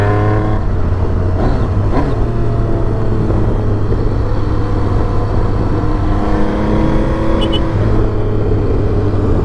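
An old car drives along, its engine droning loudly from inside the cabin, with pitch dropping and rising as gears shift.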